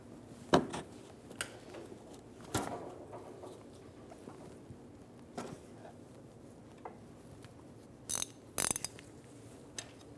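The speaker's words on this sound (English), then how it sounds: "Using a 19mm, we're going to loosen the nut on the top of the transmission mount." A 19mm ratchet loosens the top nut of a transmission mount on a 2007–2011 Toyota Camry, giving scattered sharp clicks and short ratcheting bursts over a quiet background.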